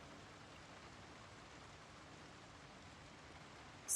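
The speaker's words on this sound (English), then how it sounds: "it's raining anyway" Rain falls in a video game, a soft, steady hiss of drops at low volume, unbroken and without any voices.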